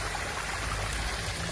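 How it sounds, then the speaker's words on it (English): Water runs out of a drainage pipe in a boundary wall into a street watercourse, making a steady, soft, continuous rushing trickle. "you can see water flowing freely out of it, joining the watercourse on the street"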